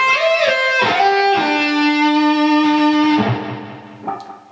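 An electric guitar plays the second half of a song as a distorted melodic phrase with bends and slides. Notes ring out and then a held tone fades. The sound is close and loud, with no talking.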